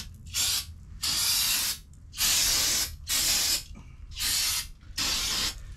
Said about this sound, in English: you want to spray everything down with some brake cleaner.